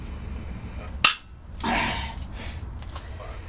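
A 12 gauge shotgun fires a high brass magnum load: one sharp, loud blast, then a rolling rumble that fades over the next second, with no voices.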